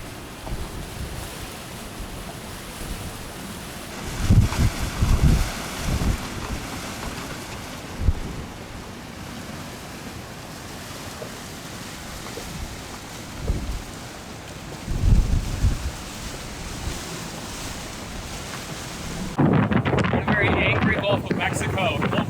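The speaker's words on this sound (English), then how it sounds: "we awoke to a cool and windy final morning" Strong wind from a passing cold front in St. Petersburg buffets and roars steadily, with gusty bursts and surf-like rushing throughout, ending in a louder, harsher blast.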